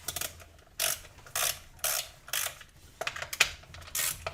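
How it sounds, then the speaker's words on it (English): Chain cover nuts being loosened on a Stihl MS441 chainsaw with a ratcheting wrench. It gives repeated bursts of close, crisp ratchet clicks in an uneven rhythm with short gaps between them, and no one speaks. "then we're going to loosen these two bolts"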